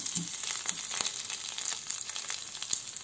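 Garlic frying in hot oil in a pan with tempering spices, a steady soft sizzle with small crackling pops throughout, close and alone.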